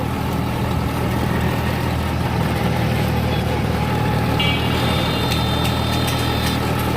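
An auto-rickshaw engine idles close by, a low continuous rumble with a faint high whine creeping in toward the end.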